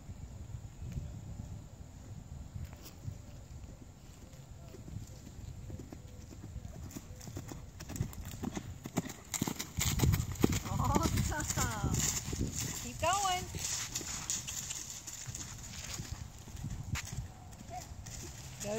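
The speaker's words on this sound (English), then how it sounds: "Keep him cantering." A ridden horse canters in a lesson, its hooves beating a steady, rhythmic clip-clop throughout while people talk over the footfalls.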